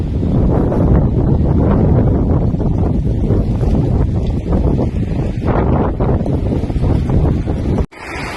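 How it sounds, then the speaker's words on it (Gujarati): Strong, fast wind blows just before the season's first rain. Loud, continuous gusts buffet the microphone with a steady roar that cuts off abruptly near the end. "પવન તો એટલી ઝડપે ફૂંકાય છે ને"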